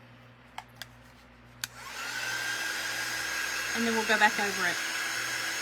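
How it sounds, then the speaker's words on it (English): A heat gun blows steadily after a few light taps, drying paint on a handmade Peanuts Great Pumpkin paper tag; a voice speaks over its broad whooshing hum, which wavers slightly near the end. "I'm going to make sure that my heat gun is on. Let's dry this up."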